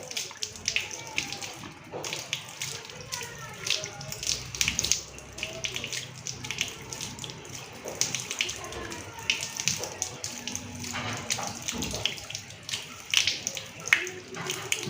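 Tap water running steadily during wudu ablution as a bearded man wets his beard, a continuous splashing stream with intermittent hand splashes throughout.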